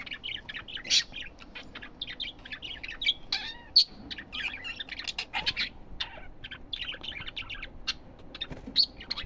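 Male parrots singing together, a busy stream of bright chirps, whistles and warbling tweets from several birds close by, continuous with brief pauses.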